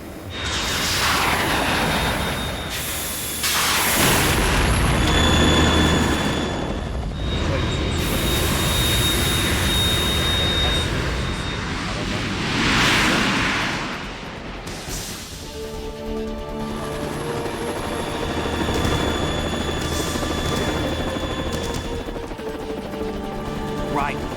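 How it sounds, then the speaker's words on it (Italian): A Harrier jet attacking in Metal Gear Solid 2 roars with a loud, sustained broadband engine rush that swells and fades in waves over about twenty-four seconds, with game effects and music layered in. "The Kasaka can't stand up to the Harrier. You have to shoot the Harrier down."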